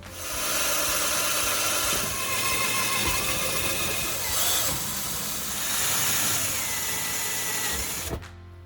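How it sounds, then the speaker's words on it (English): A power drill bores pilot holes into a stainless steel countertop, a loud, close, high-pitched grinding whine that swells and eases in several pushes before cutting off abruptly near the end, with no voices. "I'm going to drill some pilot holes into our surface"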